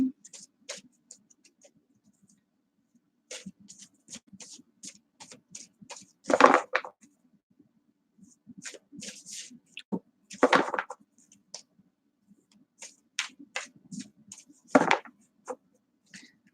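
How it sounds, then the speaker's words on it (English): Tarot cards being shuffled by hand, giving quiet, scattered riffles and soft taps with several sharper bursts, close but faint, with sparse background sounds between them. "Shuffle, shuffle, shuffle, shuffle."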